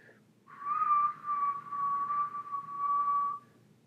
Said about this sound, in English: So that was a lower whistle.